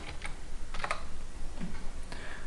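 A computer keyboard being typed on, several quick key clicks in short bursts over a steady hum, close and moderately quiet with no talking.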